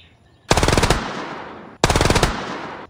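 Gunfire from a gun being tested on an amulet: two loud, sharp bursts of rapid shots, each about half a second long, separated by a second of ringing decay, with no talk.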